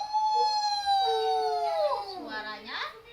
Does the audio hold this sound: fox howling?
yes